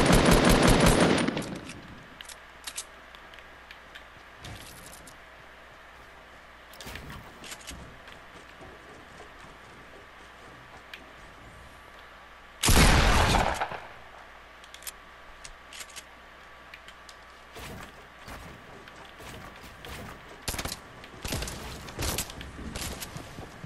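Rapid automatic gunfire bursts in the Fortnite video game, with two loud close volleys at the start and near the middle and scattered fainter shots and clicks between them, no voices.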